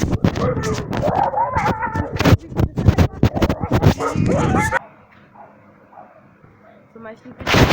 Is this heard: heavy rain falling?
no